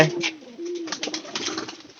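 Inside a pigeon loft, a low, drawn-out coo runs through the first second. Softer, broken coos and rustling follow nearby, with faint background clatter.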